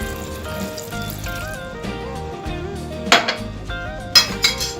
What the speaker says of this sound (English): Then next we'll add our water. This is just half a glass.